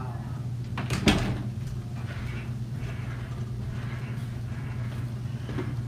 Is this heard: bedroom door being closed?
yes